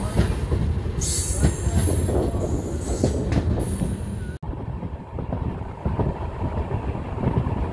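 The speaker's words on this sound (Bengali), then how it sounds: "গঙ্গারামপুর স্টেশন ছেড়ে আমরা এখন বেরিয়ে যাচ্ছি।" Howrah Balurghat Express with LHB coaches pulls out of Gangarampur station, its wheels squealing and carriages rumbling with steady clatter, loud and close, a brief dip partway before the rolling noise resumes.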